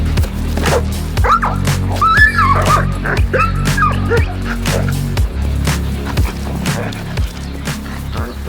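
A working service dog at an Odesa canine unit yelps and whimpers in quick high-pitched bursts, close and fairly loud, with an engine-like hum running steadily underneath.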